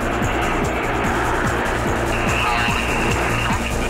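The Red Arrows jets roar loudly and continuously as they accelerate in a low display pass at Elvington, with a rising, sustained engine rumble that fills the whole stretch.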